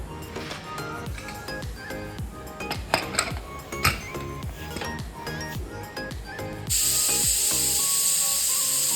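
A pressure cooker of pavta pulao (rice with field beans) lets its whistle go, a loud, steady hiss of steam that bursts in and holds to the end after a stretch of clinking pots and background music.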